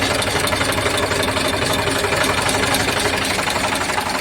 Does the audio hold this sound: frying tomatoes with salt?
no